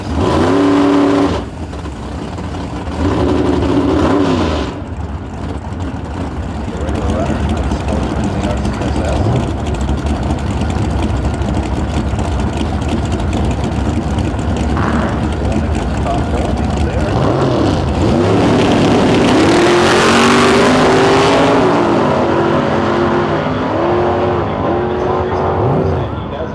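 A drag race car does a loud nitrous burnout in the burnout box at a Canadian heads-up drag racing event, its engine roaring and revving continuously with screeching tires, while a commentator talks over it.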